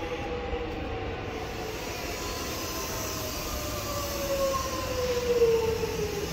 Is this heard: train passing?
yes